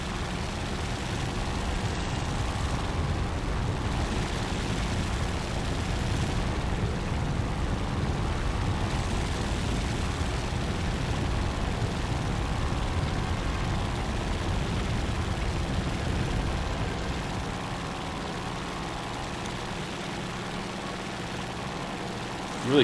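Propeller float plane engine in the War Thunder video game, a steady low droning hum that stays fairly quiet and constant throughout, with no talking.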